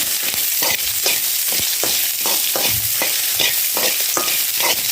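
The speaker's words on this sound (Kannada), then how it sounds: "ಈರುಳ್ಳಿ ಹಾಕಿದ ಮೇಲೆ ಮೆಂತೆ ಮತ್ತು ಜೀರಿಗೆ ಮತ್ತು ಹೀಗೆ ಒಳ್ಳೆ ಉರಿಯಿರಿ" Onions frying with fenugreek and cumin for a sole fish sukka gravy, a loud, constant sizzle broken by regular scraping strokes of a spoon stirring the pan.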